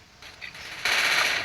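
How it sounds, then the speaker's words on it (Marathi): Gunfire in a Counter-Strike ranked match, a short burst of rapid shots that swells suddenly into a loud, dense rattle over the last half second. "अजून फायरिंग चालू त्याच्यावर"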